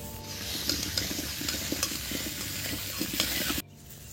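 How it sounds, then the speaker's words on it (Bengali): Potatoes frying for Bengali bhoger aloo dum sizzle steadily in a pan with light stirring scrapes for about three and a half seconds, then the sizzle cuts off abruptly. "আলুগুলো ভাজা হয়ে গেছে, এবার তুলে নেব"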